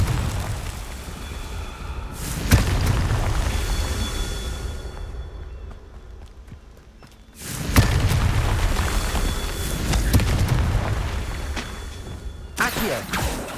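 Booming blasts from the Confringo spell cast in the video game Hogwarts Legacy erupt about three times, each loud explosion fading into a rumbling tail.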